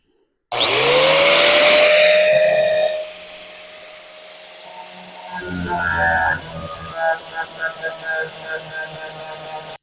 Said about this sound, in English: let's grind her off. I think we'll be okay. I know I got lots of good penetration there, so let's do some grinding